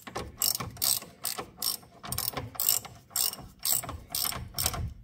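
Ratchet tightening a bolt on a Citroen C3 steering rod end, heard as a regular series of close clicking strokes, about two per second, with no talk.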